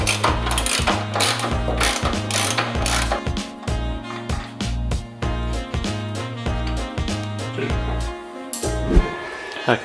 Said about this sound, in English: We'll undo the top nuts now.